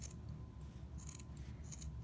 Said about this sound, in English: I'm going to stick my scissors inside one side of the yarn and cut.